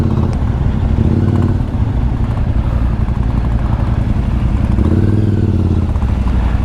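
A group of motorcycles on a joint club ride of about twenty bikes, engines rumbling steadily and loud throughout, with swells of revving as the pack moves along.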